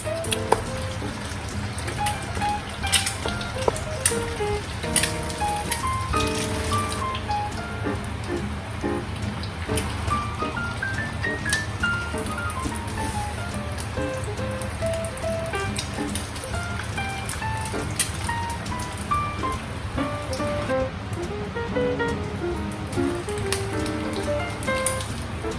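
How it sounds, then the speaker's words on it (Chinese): Steady crackling sizzle of an egg pan-frying over low heat for a sweet-and-sour fried egg dish, a continuous rain-like hiss with music playing over it. "转小火慢慢煎，这样煎出来的和包蛋不散也不会粘锅"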